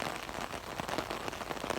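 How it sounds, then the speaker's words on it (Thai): Heavy rain pours down at a dam dredging site, a dense, even patter of drops hitting surfaces that runs without a break, fairly faint and with no voices. "คือดูฝนมานี่ครับฝนน้ำท่วม"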